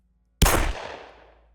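A single gunshot sound effect in a horror story narration, one sharp loud blast out of silence, followed by a long decaying echo.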